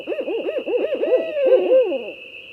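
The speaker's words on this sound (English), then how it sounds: "barred owl has one of these absolute classic North American bird calls" A recorded barred owl gives its classic rhythmic hooting call, a series of clear, wavering hoots that run together and end in a drawn-out descending note, heard alone against a steady high background tone.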